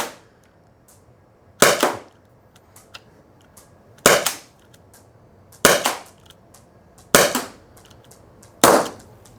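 Five sharp shots ring out from a Byrna LE launcher, spaced about one and a half to two and a half seconds apart, each a crisp loud pop with a short tail and quiet between them.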